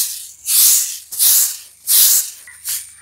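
Cicadas outdoors drone in loud pulsing bursts of high, hissing buzz, about four surges rising and falling in a steady rhythm, with no talk.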